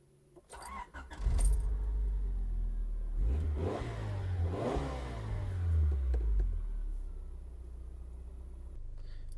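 A third-generation Honda Prelude's engine starts rumbling after a jingle of keys, then revs and pulls away with rising and falling engine tones, heard from inside the car with no talking.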